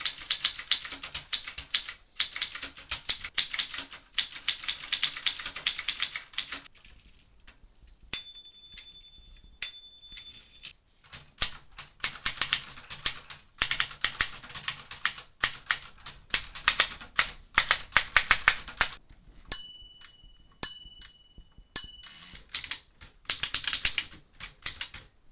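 Three manual typewriters tested on paper and cardstock clatter with rapid key strikes, bursts broken by brief pauses and a few bright carriage-return bell dings near the middle and later.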